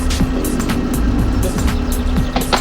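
Claas Xerion tractor engine in Farming Simulator 17, a steady mid-pitched drone with a constant hum, close and continuous, with sharp clicks and knocks over it and no talking.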